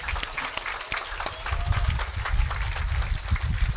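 Students and guests applaud at a flag ceremony for Indonesian Independence Day at an Islamic boarding school, dense steady clapping that continues for the whole stretch with some low rumble and a little background talk.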